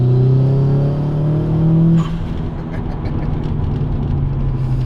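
A Subaru Impreza blobeye engine roars with a climbing pitch, then drops sharply to a lower rumbling idle-like drone as it continues on.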